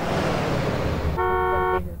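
A car pulls up in a video game, its engine and road rumble steady under a single held horn toot of about half a second, loud and close.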